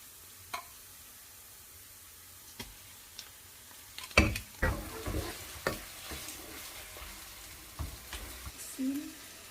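Chicken pieces frying for Filipino lumpia filling, with a soft background sizzle broken by sporadic scraping stirs and utensil clicks against the pan, growing busier toward the end.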